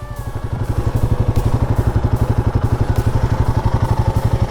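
A motorcycle cruises on the Delhi to Dehradun road, its engine a loud, steady, rapid thrumming pulse that stays close throughout with no talking.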